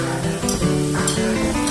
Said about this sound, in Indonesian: barulah irisan mangga gedong dicampurkan ke dalam kuali masak dan dimasak hingga bumbunya menyerap ke dalam